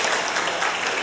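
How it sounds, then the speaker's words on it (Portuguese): An assembly audience in Belém applauds newly installed council members at a church convention, a dense, steady burst of clapping from a large crowd. "Uma salva de palmas para os nossos conselheiros."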